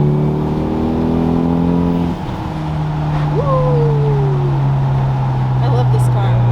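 1991 Eagle Talon heard from inside as the engine pulls through gears into turbo boost, a strong rising engine tone that shifts partway and keeps climbing, loud and close with people talking over it.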